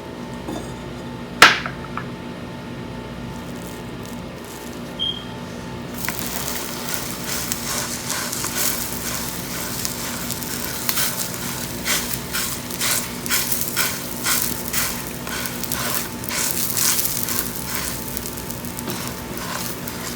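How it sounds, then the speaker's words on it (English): Kheema paratha hits a hot pan and starts frying, a sharp initial clack followed by a growing, crackly sizzle with scattered pops that continues close and steady for nearly twenty seconds, with no talking. "So now I will add our paratha in the pan."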